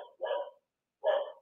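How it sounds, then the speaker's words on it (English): A dog barks indoors during a home workout, two short separate barks about a second apart, fairly close and clear against a quiet room. "Oh, my dogs."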